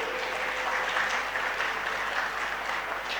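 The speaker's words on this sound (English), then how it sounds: "Can we have a round of applause for him?" Continuous applause fills a conference inauguration hall in Chandigarh as a speaker is honored, a dense wash of many clapping hands at steady loudness with a faint tonal hum running underneath.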